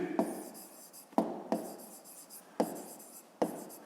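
Hand writing out a math solution, pen or pencil scratching on paper in a few short bursts with clear taps at each stroke start, close and quiet; no talk.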